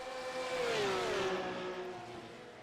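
A Porsche GT3 Cup race car engine in sim racing at Zandvoort howls past, a loud revving tone that rises then drops in pitch as it passes, fading slightly at the end.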